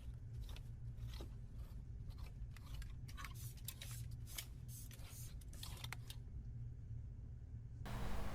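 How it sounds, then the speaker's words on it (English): Scissors cut through suit canvas and fabric around a jacket collar, a run of irregular crisp snips, close and fairly faint, with a brief rustle at the end. "We want to trim the canvas and the fabric around the neck on the collar."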